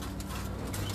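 Neel Dumba pigeons cooing in a loft, a short burst of low, throaty coos close by over a steady background hum.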